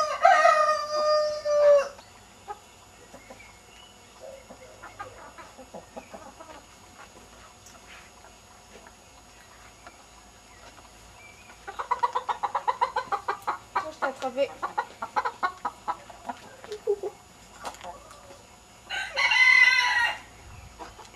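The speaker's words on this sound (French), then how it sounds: "Le coq, on l'a toujours pas attrapé." Rooster crowing on a farm during a countryside holiday, a loud crow near the start and another near the end, with clucking and bursts of fowl noise in between.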